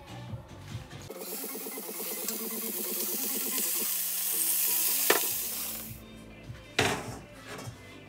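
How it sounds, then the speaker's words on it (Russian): Denver steak sears in a hot pan with a loud, steady sizzle and hiss, a brief metallic clatter near the end, heard up close and without any voices. "И, наконец, обжариваем мясо."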